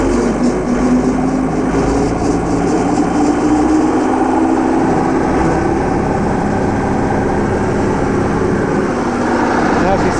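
John Deere 4520 tractor, warmed up with its PTO engaged at 540 RPM on a farm, its engine running at a steady, loud drone throughout, with a faint rising whine early on.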